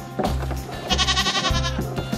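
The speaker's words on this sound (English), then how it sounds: "Where are the goats? Hiding in the barn?" Goats bleat repeatedly inside a snowy winter barn, several overlapping wavering cries close by and fairly loud, with no talk over them.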